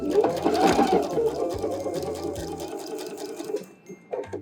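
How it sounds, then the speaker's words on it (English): A sewing machine understitching the seam allowance inside a dress, a close rapid mechanical whir that runs for several seconds, then stops, with a short restart at the end. "Notice how I'm just following the edge of the fabric and I'm stitching down the seam allowance on the inside."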